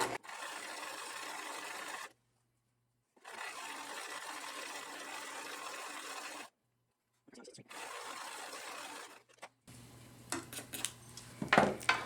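A sewing machine runs in steady bursts stitching a fabric strap for a reusable grocery bag, with brief silent pauses between runs and a few clinks and handling sounds at the end.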